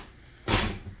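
Armrest of a Herman Miller X Logitech Embody office chair giving a single loud, short clunk that rings briefly before fading, close by in a quiet room.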